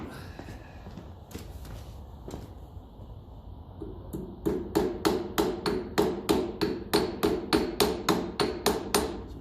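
Hammer blows while repairing a Massey Ferguson 35 tractor in a workshop, a few scattered knocks followed by a fast, steady run of loud, sharp metallic strikes, close and evenly spaced.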